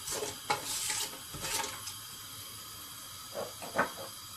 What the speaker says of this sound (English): I'm also adding little bit of shai jeera, around already 1 tablespoon to this. Just saute this a bit.